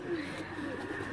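A captured pigeon coos in low, rolling murmurs, steady and fairly close, with faint background hum and no speech.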